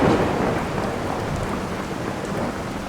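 Steady heavy rain pours throughout with deep thunder rumbling underneath in the video game Fallout 4, loud and continuous with no voices.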